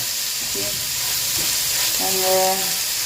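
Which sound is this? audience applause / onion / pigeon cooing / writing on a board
onion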